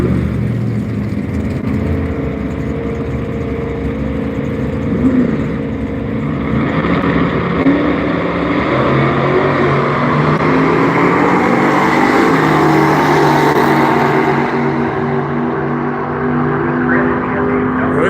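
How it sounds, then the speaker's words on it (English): Classic cars revving at a Halloween drag race, including a Studebaker and a Mopar Sports Satellite, with steady engine roar, throttle blips and rising revs under crowd and announcer chatter. "Oh, I heard some throttle being worked."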